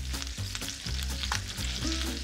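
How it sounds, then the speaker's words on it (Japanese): Chicken skin and bacon sauté in a pan, steady sizzling and frying with a continuous crackle and occasional stirring sounds, close by and fairly loud. "鶏皮、あとベーコンを入れてプリッとするまで、これも火は強くせず油を抜くようにソテーします"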